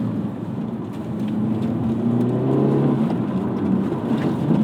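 A Hyundai Elantra N in Sport Plus mode with rev matching revs its engine during driving, a steady loud engine drone rising and falling in pitch, with road and wind noise underneath throughout.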